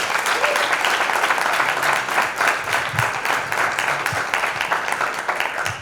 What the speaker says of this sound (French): je pense que tout le monde ici peut vous applaudir pour cela